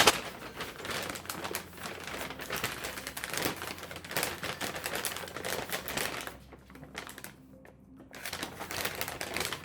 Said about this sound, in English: I'm gonna go ahead and crinkle this top lid.